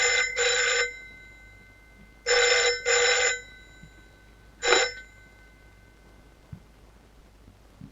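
An old-style telephone bell rings in three bursts, a double ring, then a long double ring, then a short final ring, loud and close in a quiet room with no talk.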